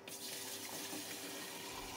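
Acidic rinse is poured into the solution tank of a carpet cleaning machine, producing a steady, close liquid gush and splash that runs without a break and with no talk.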